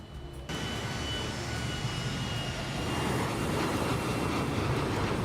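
A flight simulator's aircraft engine drone kicks in abruptly and holds as a steady, loud, broadband roar, swelling slightly partway through as the throttle goes up toward 2,500 on approach with flaps and gear down; no talking.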